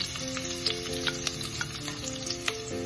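Ginger and garlic sizzle steadily in hot clarified butter for a crab curry, a dense close frying crackle with a few sharper pops and stirring clinks, no voices.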